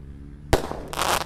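A Roman candle firework from a 25-shot batch fires a single sharp thump, followed by a crackling hiss as the shot burns off, close and loud, with no talking.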